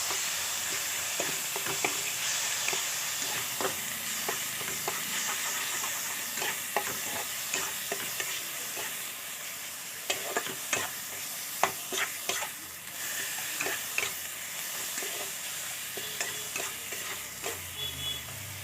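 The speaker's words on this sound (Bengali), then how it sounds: "এবার ভালো করে মশলা দিয়ে কষাবো" Spices with Kashmiri chili powder and a few grains of sugar sauté in a pan, a continuous close sizzle broken by repeated scrapes and taps of the spatula.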